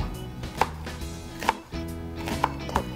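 A knife chops vegetables such as onion and green onion on a cutting board, with four sharp, close board knocks at uneven spacing over a soft background of kitchen handling.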